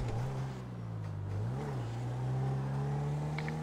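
A car in GTA V Online drives along city streets, its engine a steady mid-level drone that rises and dips slightly as it accelerates, with no talking over it.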